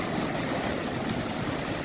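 Stormy ocean waves at night, a steady broadband wash of surf and wind that stays even and continuous throughout, with no voices present.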